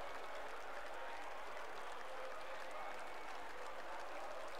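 Cheering and applause from a crowd in NASCAR Heat 4 form a dense, continuous roar at a steady level, heard on its own without talk.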